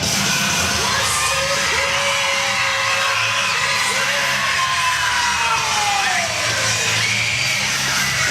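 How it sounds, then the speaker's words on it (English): A large arena crowd at a professional wrestling event roars and cheers continuously, with shouts and whoops rising over a dense, loud wall of voices. "And here it is, the crowd coming alive."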